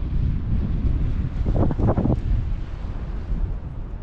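Strong wind buffets the microphone with a constant low rumble, joined by a brief cluster of rougher gusts midway.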